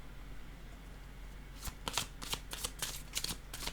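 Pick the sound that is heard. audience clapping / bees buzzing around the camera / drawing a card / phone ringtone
drawing a card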